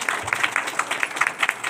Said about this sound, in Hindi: सभी लोग बजाएंगे जोरदार तालियां।